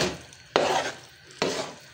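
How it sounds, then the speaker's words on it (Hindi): A spoon stirring besan barfi mixture in a pan, two scraping sweeps with a crackling sizzle, each starting abruptly and fading. "आपने इसके चम्मच को चलाते जाना है ताकि ये अच्छी तरह से इसके अंदर पक जाए"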